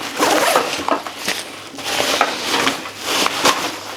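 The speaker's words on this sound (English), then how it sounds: "your horseshoe zipper." A horseshoe zipper on a bag's main pocket rasps open in several uneven pulls, close and fairly loud, with small rustles and clicks of fabric between strokes.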